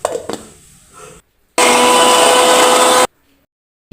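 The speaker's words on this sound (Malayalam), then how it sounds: "മാറ്റിവെച്ച കടല മിക്സിയുടെ ജാറിൽ അടിച്ചെടുക്കുക." A mixer grinder blends cooked chickpeas into paste in a kitchen, giving a loud, steady whir for about a second and a half after a short quieter stretch, then cutting off abruptly into silence.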